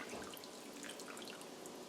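Venison summer sausages plunged into a cold water bath, giving a steady close wash of trickling, dripping water that runs without pause.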